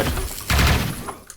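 Pulse gun fire in the top-down shooter Neon Chrome, a dense burst of rapid electronic shots and thuds with a louder surge midway, close and loud over game noise, with no talking.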